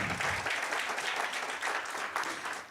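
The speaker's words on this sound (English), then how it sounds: "So a round of applause once more for Ian" An audience at a corporate identity launch programme applauds, giving steady, even clapping from a crowd at moderate volume that tapers slightly toward the end.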